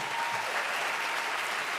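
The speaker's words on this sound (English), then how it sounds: "give him a round of applause because this guy" A live audience at a mentoring talk breaks into a round of applause, a dense, steady wash of many hands clapping at once that carries loud and unbroken for the whole stretch.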